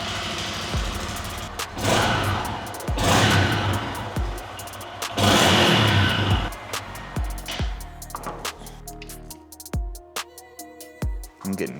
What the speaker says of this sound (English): we'll fire her up, see how she sounds with the new exhaust